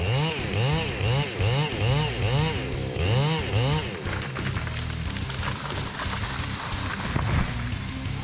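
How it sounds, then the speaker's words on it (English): A chainsaw saws through a giant singan tree near power lines, its engine revving in repeated rising strokes before settling into a steady, loud cutting drone, close by. "they are sawing down a giant singan tree"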